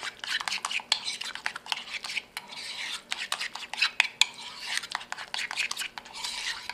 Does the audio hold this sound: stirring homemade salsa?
yes